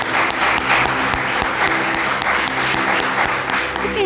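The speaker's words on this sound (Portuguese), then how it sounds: "Vamos aplaudir o Senhor por isso." A church congregation applauds the Lord, a dense, steady wash of many hands clapping continuously and fairly loud from start to finish, with no pause.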